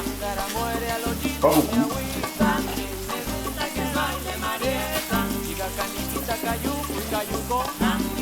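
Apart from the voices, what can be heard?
water added to a sizzling pan of Veracruz-style fish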